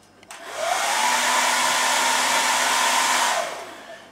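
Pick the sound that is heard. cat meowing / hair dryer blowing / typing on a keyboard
hair dryer blowing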